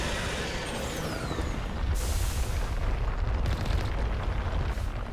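Gunfire in the video game Mass Effect 1, heavy booming shots over a dense rumbling combat background, loud and continuous with a sharp burst near the middle.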